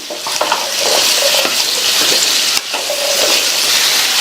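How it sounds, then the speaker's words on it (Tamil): Tuber pieces frying in oil over a high flame, a loud continuous sizzle with occasional stirring scrapes, close up. "நான் இப்போ ஹை ஃப்ளேமில் வச்சு வதக்கிட்டு இருக்கேன்"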